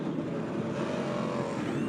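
A NASCAR stock car engine revs loudly during a pit stop at a 2001 race, a harsh, continuous roar with a slight rising sweep, heard up close with no talking.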